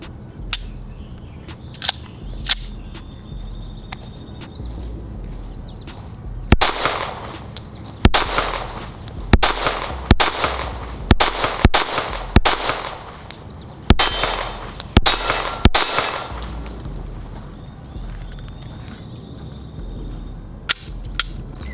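A Glock 43X pistol fitted with a Radian Ramjet compensator fires a rapid string of sharp, loud shots in uneven bursts with short gaps, outdoors with no talking.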